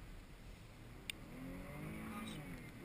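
A 2019 GMC Acadia All Terrain with an all-wheel-drive V6, in two-wheel-drive mode, accelerating out of a corner: a faint engine note that rises and strengthens over a few seconds.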